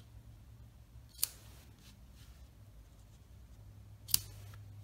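Scissors trim the ribbon ends on a handmade snowflake card, two brief crisp snips well apart, close and quiet over a faint low hum.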